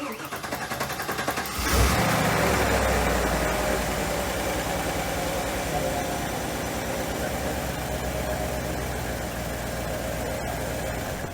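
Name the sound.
1995 Firebird Trans Am engine cranking, starting and idling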